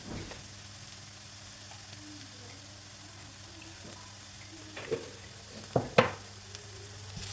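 Onions frying in a pan for a tuna quiche give a low, steady sizzle, joined near the end by a few sharp scrapes and clatters of stirring.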